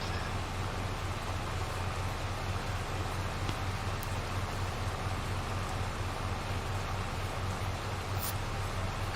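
Rain in the video game Farming Simulator 22, a steady, even hiss of falling rain over a low engine-like hum, continuous and moderately quiet, with no talking.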